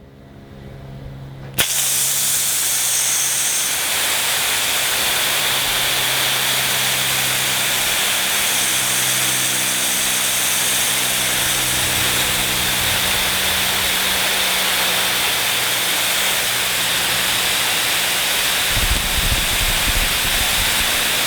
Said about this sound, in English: Now we're going to test the high flow full throttle nozzle, going for distance first.